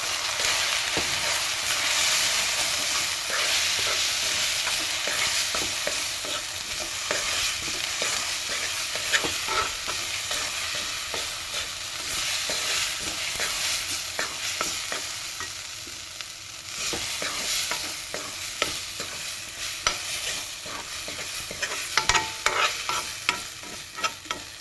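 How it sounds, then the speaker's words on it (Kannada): Ground raw mango and chili powder are stirred in a hot pan, a dense continuous sizzle with frequent spatula scrapes and clicks throughout, close and loud, no voices. "ನಂತರ ರುಬ್ಬಿಟ್ಟಿರೋ ಅಂಥ ಮಾವಿನಕಾಯಿ ಅದನ್ನು ಕೂಡ ಹಾಕಿ, ಆಮೇಲೆ ಇದ್ರ ಜೊತೆಗೇ ಪುಡಿ ಮಾಡಿಟ್ಟಿರೋ ಅಂಥ ಖಾರನೂ ಕೂಡ ಹಾಕ್ಕೊಂಡು ಚೆನ್ನಾಗಿ ಮಿಕ್ಸ್ ಮಾಡ್ಕೊಳ್ಳಿ"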